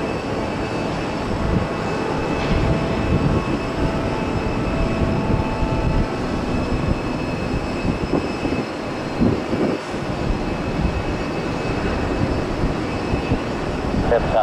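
A fixed-wing airplane takes off from a runway at Tampa airport, a steady broadband engine roar that stays loud and continuous with faint radio-style talk underneath.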